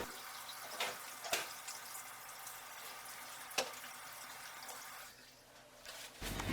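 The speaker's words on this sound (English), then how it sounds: "Logan's going to do that by following the 7 steps of hand washing" A child washing hands under a running kitchen tap, a soft steady stream of water with a few louder splashes and knocks, fairly quiet and close, then a brief drop before the flow returns.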